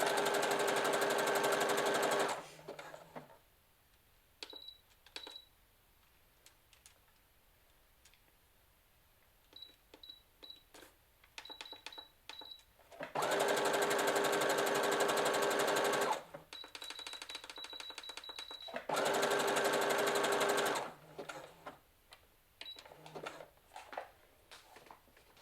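A Brother FS 40 sewing machine runs a zigzag stitch in three loud sustained whirring bursts, separated by quieter stretches of small clicks and beeps from the machine's controls.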